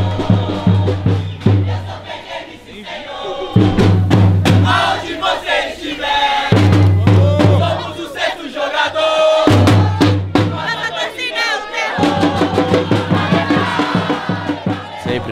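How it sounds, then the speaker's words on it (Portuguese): Supporters at a League game crowd together, chanting and shouting loudly. A steady low drumbeat keeps time under the dense, continuous wall of voices. "Aquele showzão da nossa torcida aí pra dar aquela animada."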